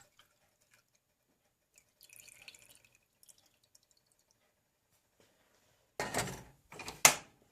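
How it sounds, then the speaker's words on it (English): Melted homemade herbal healing salve poured back into a Pyrex glass dish, two short close splashing pours after faint kitchen handling noises and quiet. "We're going to pour that back into the Pyrex."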